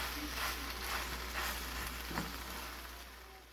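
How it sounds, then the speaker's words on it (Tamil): Egg macaroni pasta is stirred and mixed in a hot pan: a soft, steady sizzle with several quiet scraping strokes of the spoon, fairly faint and close. "எல்லாம் ஒன்று சேர நல்லா கலக்கணும்."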